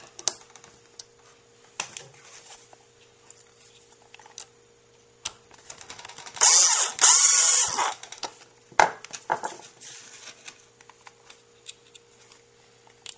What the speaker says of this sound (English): These are self-tapping screws I'm using.